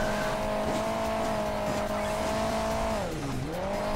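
In Hill Climb Racing 2, a rally car engine holds a steady buzzing drone, then dips sharply in pitch and climbs back near the end, loud and unbroken.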